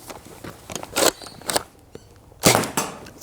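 Sharp snapping shots from a Nexus Pro X air gun fitted with two spacers, several distinct cracks spaced unevenly over a few seconds, loud and close with no talking.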